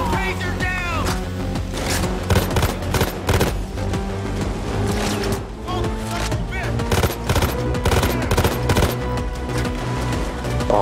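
Automatic gunfire during a bank heist in the video game Payday 2, rapid loud bursts and repeated shots dense throughout, with people talking over the shooting.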